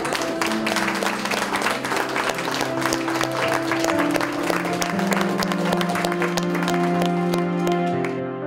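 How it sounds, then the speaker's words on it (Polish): People at a school's 150th jubilee celebration clap for the exhibiting artists, a sustained round of applause with music playing underneath, fairly loud and steady. "brawa teraz dla wszystkich bardzo"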